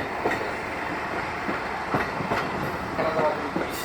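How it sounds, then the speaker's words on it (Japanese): A Furusato Ginga Line railcar on the Rikubetsu Railway in Hokkaido rolls along the track, with steady close rumble and faint rhythmic wheel clicks throughout and no talking. "金沢踏切安全確認のため列車一旦停車をいたします。"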